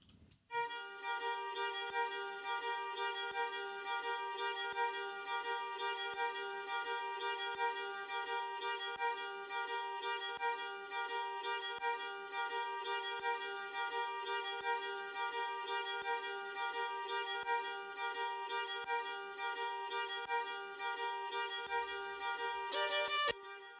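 A sustained string chord washed in large hall reverb and echoing delay, steady and soft throughout, ending with a brief burst of noise.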